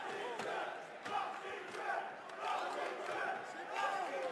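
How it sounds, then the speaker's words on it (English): Spectators at a middleweight MMA bout cheer and chant for a fighter in a steady, moderately distant wash of crowd noise with rising shouts, while a commentator speaks over it. "BAISANGUR's got quite a cheering session."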